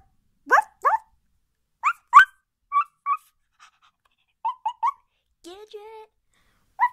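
Dogs at a dog park give short, sharp yips and barks, scattered and irregular, with brief gaps of quiet between them and a longer whining sound near the end.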